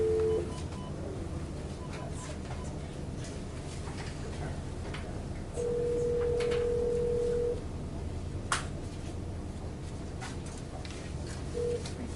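Phone line being patched into a municipal commission meeting room: a steady electronic connection tone sounds briefly at the start, then a longer two-second tone and a short final tone over room murmur and faint background noise.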